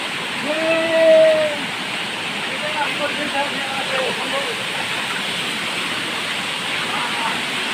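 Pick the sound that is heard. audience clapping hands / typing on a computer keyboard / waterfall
waterfall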